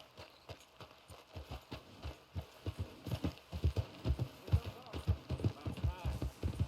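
Horse hooves clip-clop in Red Dead Redemption II, a steady, rhythmic run of close, distinct hoofbeats that grows slightly louder and quicker toward the end.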